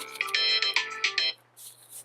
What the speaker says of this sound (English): I forgot I had that alarm on my phone